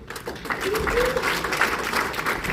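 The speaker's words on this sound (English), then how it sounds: "Keep your applause going for our special guest dropping in" Audience at a live hosted show applauds a special guest, Mike Green, dropping in; steady broad clapping fills the whole stretch, with crowd noise and voices mixed underneath.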